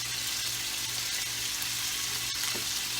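Chunks of food fry and spatter in a pan, giving a steady, close, even sizzle that runs the whole time with no voices over it.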